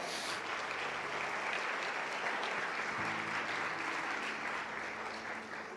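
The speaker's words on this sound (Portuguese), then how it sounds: "aplauda ao Senhor Jesus bem forte" A church congregation applauds for the Lord, a dense continuous wash of clapping from a large crowd, steady and fairly distant-sounding, with faint tonal sounds underneath in the second half.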